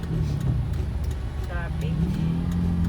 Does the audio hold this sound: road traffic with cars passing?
yes